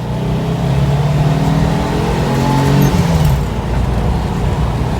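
Turbocharged Volkswagen Bay Window bus engine accelerating on the road, a loud close rising rev with climbing tones that peak and ease off near the end, with no talking.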